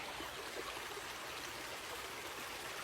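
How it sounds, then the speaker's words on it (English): Water running steadily into a dry farm pond as it refills, a constant rushing trickle close by with no voices. "It always makes me happy when the water comes."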